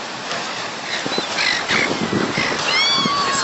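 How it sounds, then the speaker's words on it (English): Several birds caw and squawk close by during feeding at a seaside spot on the Gold Coast, Australia, harsh repeated calls over a steady wash of wind or surf. "And we are playing with birds."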